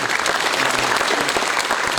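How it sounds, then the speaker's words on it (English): An audience at a college freshers' welcome event applauds a session, a steady, dense burst of clapping that stays loud and even throughout. "big round of applause for the session today"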